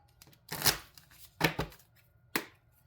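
Three quick riffling bursts of tarot cards being shuffled, crisp and close, separated by short pauses.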